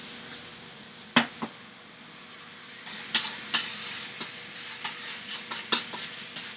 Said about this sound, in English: Shallots in. Thyme in. I'm going to saute both of those fairly lightly.